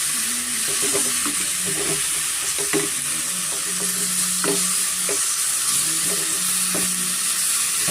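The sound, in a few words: tomatoes frying in oil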